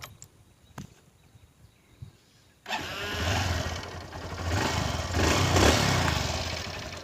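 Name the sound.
Honda Livo motorcycle engine idling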